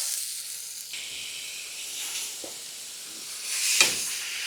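Filipino-style barbecue sizzles on an oiled pan inside a pizza oven in freezing weather, a soft steady hiss close by with a few brief louder pops and crackles.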